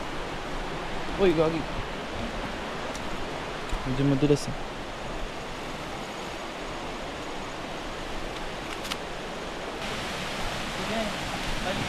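Steady rushing of river water runs close by throughout a river crossing at a camp resort in Real, Quezon, with brief speech from people wading over it.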